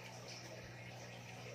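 Steady flowing river water at a riverside, a continuous broadband rush with a low hum beneath, fairly quiet and unbroken throughout.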